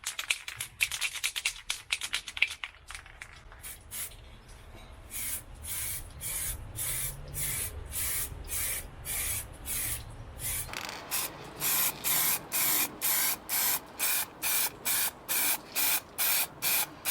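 Heat-resistant paint sprayed from an aerosol can onto a motorbike brake caliper, starting with a long continuous hiss, then a rapid series of short, even bursts close up, with no talk.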